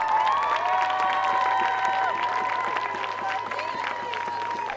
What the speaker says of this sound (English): give a big round of applause for the 2013 King and Queen in their court